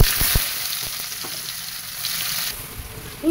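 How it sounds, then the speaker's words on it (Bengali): Chopped onion hits hot oil in a pan and sizzles in a steady, close, broadband hiss, with a few quick clicks and spatters near the start and no talking. "পেঁয়াজটাকে দিয়ে দেবো তেলের মধ্যে।"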